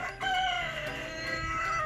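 A Brahma rooster crows once, loud and near, in a single long drawn-out call that holds steady before trailing off.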